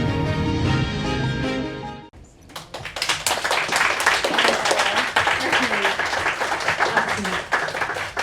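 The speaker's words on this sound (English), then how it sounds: "The applause for that should go to Bobby Sheehan" Audience applause after a film screening: dense clapping from a crowd, steady and sustained for several seconds, preceded by a brief stretch of talk or music at the start.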